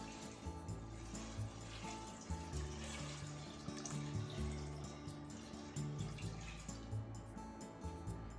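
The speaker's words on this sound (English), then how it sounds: "Add some water." Tap water running and splashing as water is added to drained beans in a pressure cooker for making anko bean jam, a steady pour with faint drips and background kitchen hum, no talking.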